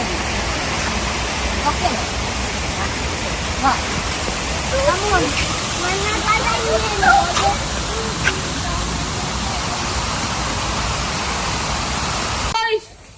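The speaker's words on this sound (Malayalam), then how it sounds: "ഇതാണ് വാഴാനി ഡാമിന്റെ കനാല്. ഇതിക്കൂടെയാണ് വെള്ളം വരുന്നത്." Water rushing steadily through the Vazhani Dam canal in Thrissur, Kerala, a broad continuous roar that holds loud and even for about twelve seconds before cutting off abruptly, with a brief voice heard near the end.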